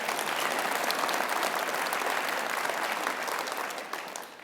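An audience at a university chancellor's fall address bursts into sustained, dense applause from many hands that holds steady for several seconds, then begins to fade at the end.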